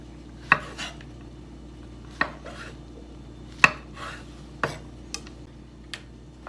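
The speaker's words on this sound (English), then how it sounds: "When cutting mushrooms, trim off the ends of the stems, turn on top, and just cut in quarters." Knife cutting mushrooms into quarters on a board: sharp, separate chops spaced about a second apart, each followed by a faint scrape, close and clear with no talking.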